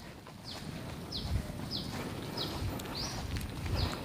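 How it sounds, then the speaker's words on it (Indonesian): Wild birds in trees at an oil-and-gas education park in Prabumulih, South Sumatra, repeat a short descending whistle about every 0.6 seconds over a soft outdoor background hum. The calls are moderately distant and quiet. "Teman-teman bisa mendengar ya suara burung di atas sana."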